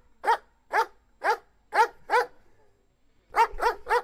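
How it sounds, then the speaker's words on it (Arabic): Dog barks from a sound-board effect: five evenly spaced, close, loud barks, a short pause, then a quicker burst of three more. "Two dog bark button."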